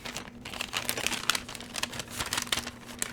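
A plastic bag is grabbed and crinkled close by, a busy run of sharp rustling and crumpling bursts over a faint steady hum, with no voices.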